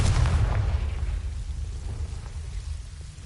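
A Confringo fire spell bursts in Hogwarts Legacy: a loud, booming blast with deep rumbling body, strongest at the start, then a long rolling tail of crackle and low roar that slowly fades.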